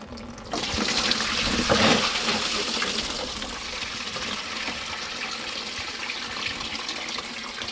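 Fluids draining from a Toyota Supra during a single turbo conversion, a steady rushing gush of liquid that surges briefly early on and then settles into a continuous pouring flow.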